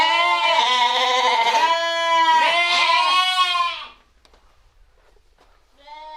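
Loud, close bleating from sheep and lambs at a village house in Dereköy, Turkey, several overlapping calls, then a brief quiet gap before another bleat starts.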